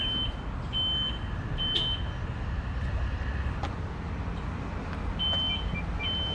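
A 2019 Nissan X-Trail Hybrid gives short electronic locking beeps, several chirps spaced over a few seconds against a steady wash of nearby road traffic.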